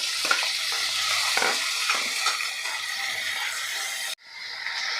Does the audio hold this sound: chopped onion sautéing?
yes